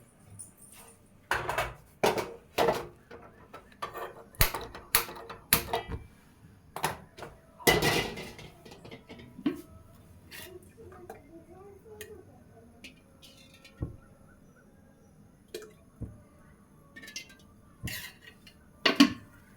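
Ingredients for mint chutney are dry-roasted in a kadai, with close metallic taps and scrapes of a spoon against the pan in irregular bursts, fading to sparse clicks, and soft talk in places.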